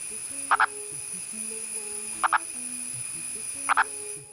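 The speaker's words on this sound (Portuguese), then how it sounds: "sua chamada de acasalamento soa menos como a de um sapo e mais como se" A rare frog from Periyar, India, giving its mating call: three short paired clucking notes spaced about one and a half seconds apart, over a faint hum of other night sounds.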